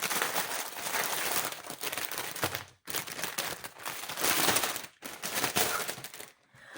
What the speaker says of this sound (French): Désolée pour le bruit, du plastique.